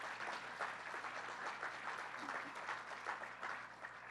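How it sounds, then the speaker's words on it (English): Audience applause at a public update on Penn Station renovations, a steady wash of many hands clapping throughout at moderate distance, with no talk over it. "So let's give them a round of applause and thank them."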